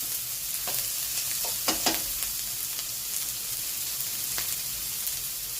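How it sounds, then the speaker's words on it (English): Shallots and peppers frying in a pan for egg fried rice give a steady sizzle, with a few sharp scrapes and clicks as they are stirred, all close and with no talking. "with the peppers. Get them in. Give them a mix around."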